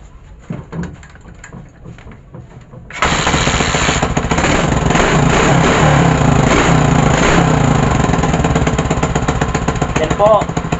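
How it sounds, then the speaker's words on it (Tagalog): A motorcycle with a noisy exhaust being started after troubleshooting: quiet handling sounds and a voice, then the engine fires at about three seconds and idles loudly and raggedly with a rough, rattling, jackhammer-like pulse. "Paandarin ko na po ang motor."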